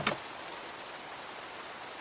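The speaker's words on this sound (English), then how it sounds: "And it is still raining." Steady video game rain: a soft, continuous hiss of falling drops, faint and even across the whole stretch, opening with one brief sharp click and no talking.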